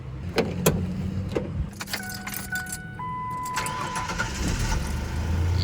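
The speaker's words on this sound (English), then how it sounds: "Let's go ahead and see if she will crank up." Keys jangle and a Ford Ranger truck's engine cranks and catches after its loose battery terminal is tightened, with a chime sounding during cranking and the engine then settling into a steady idle, close and with no talk.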